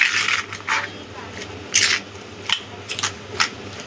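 Tomato chutney being mixed with salt and turmeric, heard as short wet scraping and squishing strokes spaced irregularly, close by over a quiet low hum.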